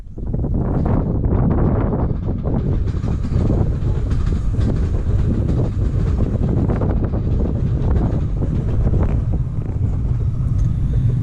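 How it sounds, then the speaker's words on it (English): A train rumbles past close by on a beach, a loud continuous roar with wind buffeting the microphone throughout. "There's a train."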